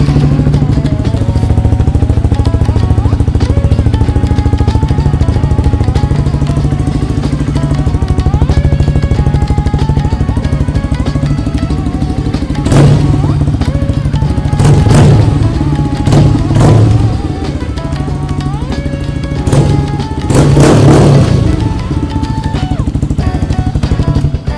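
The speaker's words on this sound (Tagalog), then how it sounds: "pakinggan muna natin yung ating exhaust bago natin siya palitan" A Honda CRF150L with its stock exhaust idles after a cold start, a loud, close, steady single-cylinder putter. Brief revs and thumps rise above the idle partway through.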